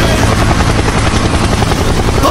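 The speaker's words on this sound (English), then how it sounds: "Helicopter! Helicopter!" A helicopter sound effect in an animated scene, a steady, loud rotor roar that fills the whole stretch with no break.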